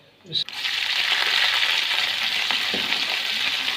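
Shredded cabbage drops into hot oil with lightly browned chopped garlic: a sudden splashy burst, then a loud, steady hiss of sizzling that carries on evenly to the end.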